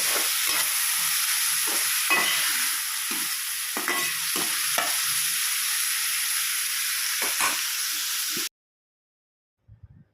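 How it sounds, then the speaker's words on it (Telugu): Chopped tomatoes fry in a pan for a dish of dry fish, tomato and eggs, giving a steady close sizzle with repeated spoon scrapes and stirring knocks, then a sudden stop into near silence with a few faint clunks at the end. "ముందుగా మనం తరిగి పెట్టుకున్న టమాటాలు వేసుకోవాలండి. వేసుకొని బాగా ఫ్రై చేసుకోవాలి."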